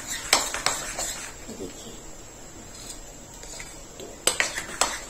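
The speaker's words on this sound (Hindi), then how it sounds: "एक ही डायरेक्शन में हम इसको अच्छे से मिला लेंगे इनो डाल के" Rava idli batter being stirred with Eno in a bowl: a spoon clinks and scrapes in quick clusters at the start and again near the end, close and fairly quiet, with soft speech in between.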